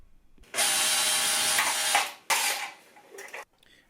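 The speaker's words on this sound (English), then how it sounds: "using a power drill is a good way to take care of these very long toggle bolts" A power drill whirs loudly for about a second and a half removing long toggle bolts from a skylight housing, stops briefly, then spins again in a shorter burst before cutting off.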